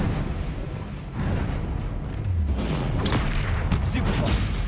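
Incendio fire spell cast in a Harry Potter video game, a rushing roar of flame with booming bursts building in the second half, dense and loud over a continuous rumble, with voices shouting spells throughout.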